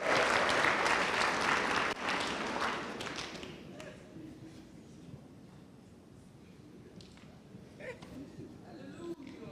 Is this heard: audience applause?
yes